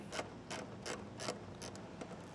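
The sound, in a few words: ratchet with long extension and 7mm socket removing screws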